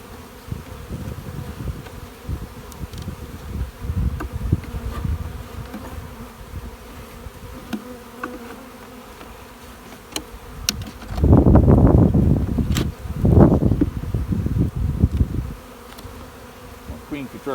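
Honey bees buzzing thickly around an overwintered nuc box being installed, a constant close hum that swells loudly in two bursts near the end.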